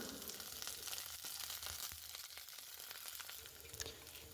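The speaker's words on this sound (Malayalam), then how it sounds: "കുറച്ച് കറിവേപ്പിലയും കൂടി ഇട്ട് കൊടുത്ത് നമുക്കിത് മൂപ്പിച്ചെടുക്കാം." Shallots and curry leaves fry in coconut oil with a soft, steady sizzle that stays faint and even throughout, with a few small pops near the end and no voices.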